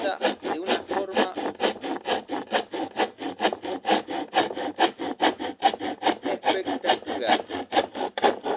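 A Wadfow drywall handsaw cutting wood in fast, even back-and-forth strokes, each rasping pass close and loud, about four strokes per second without pause.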